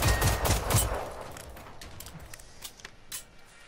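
Bursts of rapid gunfire from the survival shooter Generation Zero crackle in the first second, then sparse single shots echo faintly against quiet background ambience.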